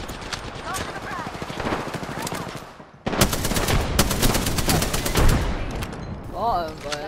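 Rapid bursts of gunfire in the battle royale game Apex Legends, dense automatic volleys that break off briefly and then resume louder, with players talking over the shooting.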